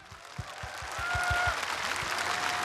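Applause from a crowd swells and holds steady, a wash of clapping with a few low thumps underneath, at a memorial ceremony in Bongha, South Korea, for former president Roh Moo-hyun.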